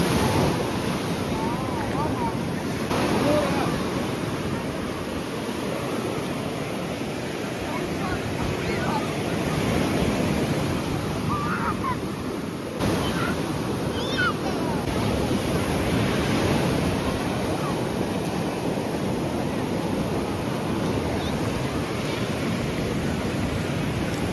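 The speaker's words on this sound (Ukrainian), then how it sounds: "бо високі хвилі" Steady roar of high sea waves crashing continuously against a rocky beach at Sanzhiika, with heavy wind buffeting the microphone throughout.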